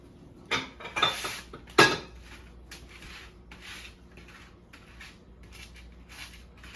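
Candied pecans spread out on a pan: light clinking and scraping of nuts against metal, with a few louder clacks early on, then soft intermittent rustling, all fairly quiet.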